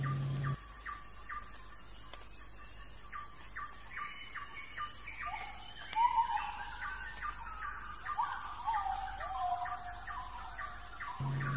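Calls of a king bird of paradise ring out in a Papuan forest, a series of short squealing, chirping notes repeating at a steady pace, with louder whistled squeals joining later over a faint, constant background hum.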